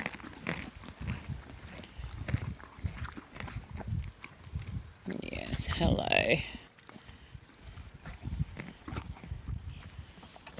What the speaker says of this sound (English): Happy horses.